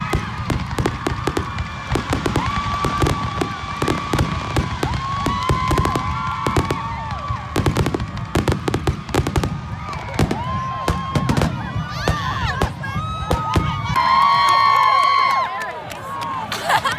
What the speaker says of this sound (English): so we'll show you guys the fireworks